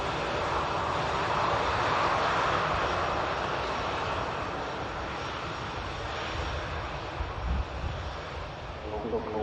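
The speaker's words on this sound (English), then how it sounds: "You see the next aircraft to arrive, just taking the right hand bank turn." An aircraft on approach to Manchester Airport drones with a loud, sustained engine roar that holds steady and eases slightly toward the end, with a voice talking over it.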